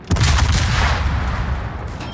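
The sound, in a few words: naval guns firing, video game World of Warships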